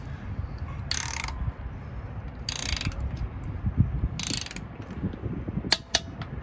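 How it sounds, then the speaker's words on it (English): Torque wrench tightening a lug nut on a 2019 Hyundai Veloster N: close ratcheting clicks in short bursts over a low garage rumble, ending with sharp clicks. "You can hear a little click. That's when you know the lug nut is torqued at 87 foot-pounds."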